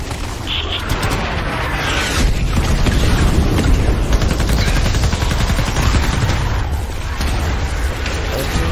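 Heavy video-game gunfire pours out in continuous rapid bursts, booming and close, with explosive thumps mixed in and a voice faintly audible beneath the barrage.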